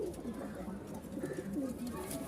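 A flock of Giribaz and fancy pigeons coos steadily and softly, the low throaty calls overlapping into a continuous murmur close by.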